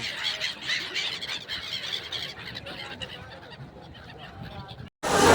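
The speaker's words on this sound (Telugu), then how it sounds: "భలే భలే పక్షులంతా పోతా ఉన్నాయి." Birds at Triveni Sangam, Prayagraj, during the Maha Kumbh Mela give a dense, continuous chorus of squealing, honking calls over crowd noise, ending with a sudden loud burst.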